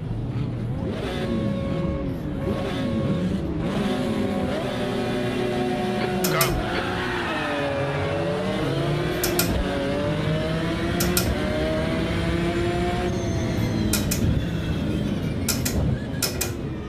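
Several race car engines in a sim racing game drone and rise in pitch as they accelerate through the gears, loud and constant, with sharp mechanical clicks from a MOZA SGP sequential shifter and a voice talking over them.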